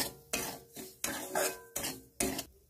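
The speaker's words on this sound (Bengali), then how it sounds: "দিয়ে সুজিটা একটু হালকা করে ভেজে নেব।" Semolina is lightly fried in ghee in a wok, heard as six evenly spaced scraping spatula strokes against the pan, close and moderately loud, with only a faint sizzle between strokes.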